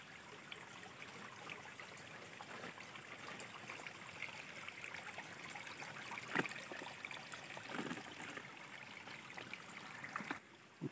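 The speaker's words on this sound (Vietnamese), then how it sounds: "Khe suối này chảy ra Tân Nam Động" A mountain stream runs faintly and steadily as a soft continuous trickle, with no voices and a few small splashes or knocks.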